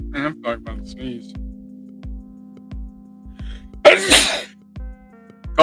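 A loud, sudden sneeze bursts out after a few quiet spoken words over a low steady hum.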